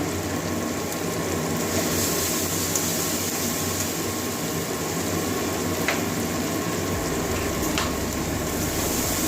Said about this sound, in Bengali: এবারে এগুলো ভালো করে একটু ফেলে কষিয়ে নেব হলুদ গুঁড়ো দিয়ে দিচ্ছি